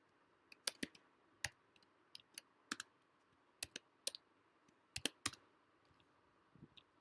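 Keys on a computer keyboard click in sparse, irregular taps as a formula goes into an Excel spreadsheet, quiet and close with brief gaps between keystrokes.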